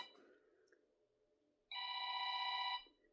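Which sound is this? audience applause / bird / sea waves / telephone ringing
telephone ringing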